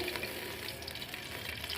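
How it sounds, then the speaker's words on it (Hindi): Ghee sizzles and crackles steadily in a hot pan for tempering, a soft continuous frying hiss with a small clatter at the end. "जी बस तो इसमें घी डालूंगी मैं 2 चम्मच बड़े वाले"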